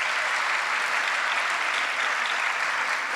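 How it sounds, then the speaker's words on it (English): An audience at a school district State of the District event in South Salem gives steady, sustained applause, an even, dense wash of clapping with no voices over it. "Let's give Lily another round of applause"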